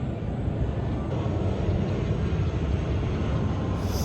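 An airplane flies over N'Sele near Kinshasa, a steady broad engine roar holding at moderate loudness for a few seconds, heard alone outdoors.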